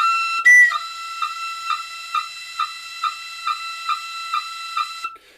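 A tin whistle holds a steady E, broken by about nine evenly spaced finger taps that give it a bouncing pulse. It is heard close and alone, after a brief breathy onset.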